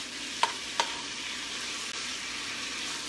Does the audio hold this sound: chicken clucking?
no